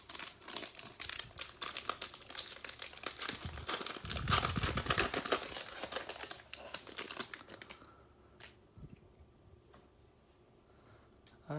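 Foil wrapper of a Panini Donruss basketball card fat pack crinkling and tearing open, loud close crackling for several seconds, then quieter handling of the cards as it settles.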